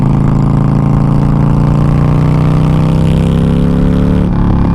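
An air-cooled V-twin engine on a 2013 Harley-Davidson Forty Eight motorcycle runs close and loud with a deep, throbbing, lumpy exhaust note that climbs slightly in pitch as it revs a little, heard alone without talk.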